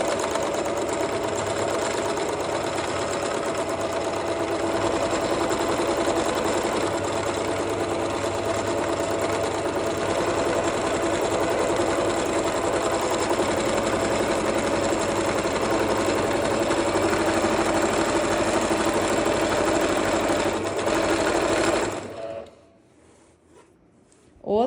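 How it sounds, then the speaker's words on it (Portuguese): A domestic sewing machine hums continuously during free-motion quilting of a curvy maze pattern, its needle hammering at a fast steady rate for over twenty seconds before stopping abruptly near the end. "quanto mais rápido eu acionar o pedal, né, quanto mais rápido a agulha bater, mais chance da linha arrebentar"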